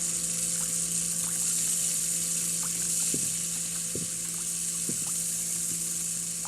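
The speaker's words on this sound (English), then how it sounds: "there's so many faucets to turn on." Several faucets turned on in the Ghost Watchers video game produce a steady hiss of running water with a constant hum and occasional soft knocks, no talking.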